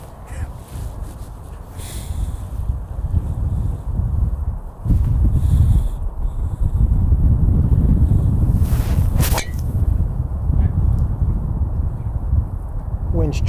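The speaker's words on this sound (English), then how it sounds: "Wind's trying the best." Strong wind sweeps across an open golf course, buffeting the microphone with a loud, continuous low rumble that swells and gusts throughout, with a few faint sharper noises breaking through.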